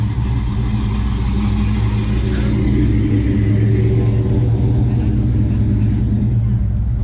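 A car at an American Legion Labor Day car show in Bellville, Ohio strains up a hill, its engine a continuous low rumble holding steady under revs with outdoor crowd murmur and wind behind it.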